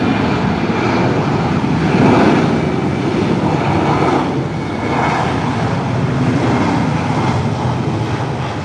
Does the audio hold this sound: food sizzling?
no